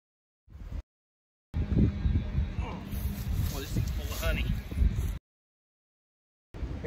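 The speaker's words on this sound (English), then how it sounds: "it's super windy" Strong wind buffets the microphone outdoors beside a beehive, a steady low rumble with gusty bursts, cutting in and out with brief silent gaps.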